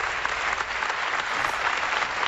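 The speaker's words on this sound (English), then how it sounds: "They're applauding right now." Steady, dense applause from a large audience at an Apple product keynote event, a continuous wash of clapping with no pauses and no voices on top.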